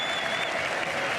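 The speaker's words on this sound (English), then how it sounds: "He's still acknowledging the applause of the Saturday crowd" A Saturday crowd at the Gabba applauds during an Australia v New Zealand cricket Test, a brief burst of steady, dense clapping.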